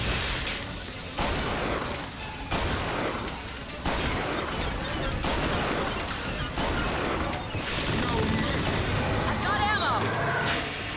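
Bursts of gunfire in the video game Bioshock Infinite, dense and loud, with crashes over a busy game soundscape and someone talking now and then.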